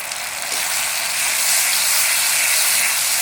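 Onion, spice paste and spice-rinse water hitting a hot pan for a Bengali prawn curry, giving a loud, close, continuous hiss and sizzle that swells slightly after the first half-second.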